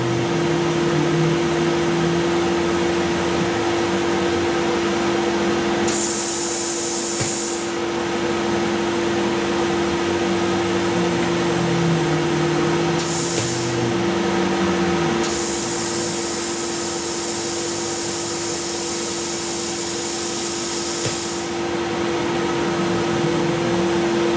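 A CNC machine cuts metal knife parts under a steady loud motor hum, with long hissing bursts of coolant spray or cutting noise coming and going.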